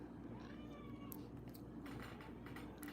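A pet cat named Weem meows and cries faintly indoors late at night, a few thin, drawn-out calls over a steady low room hum.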